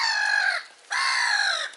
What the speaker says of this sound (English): Look at that. Duck fight.